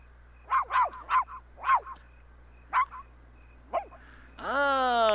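Dogs in The Sims 4 video game bark in a quick series of about seven sharp yips, ending with a drawn-out rising whine, fairly clear over a quiet low hum.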